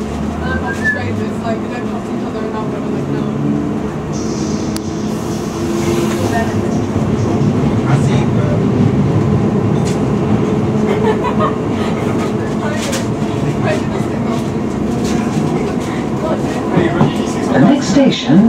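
A London Underground Piccadilly Line train running between stations, a loud continuous rumble and rattle of wheels on track with clattering and squeals, while a voice is heard over the noise.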